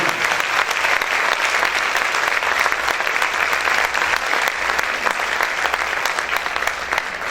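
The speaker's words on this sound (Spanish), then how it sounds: "Vamos a aplaudir fuerte al Señor" Loud, dense applause from a church congregation fills the space steadily and without pause, the clapping sustained and even throughout.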